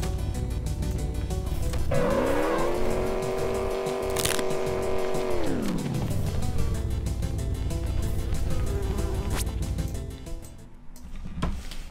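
A car engine in a video game hums steadily, rises in pitch as it accelerates, holds, then winds back down, with background game music running throughout.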